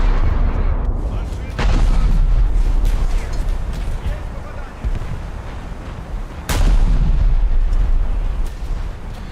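Heavy 12-inch naval guns on a battlecruiser in a naval combat game fire in loud, booming blasts, with two big reports standing out over a rumbling battle backdrop and a voice talking beneath.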